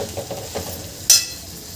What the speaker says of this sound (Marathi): इथे आपण हे बटाटे छान परतून घेतले आपण।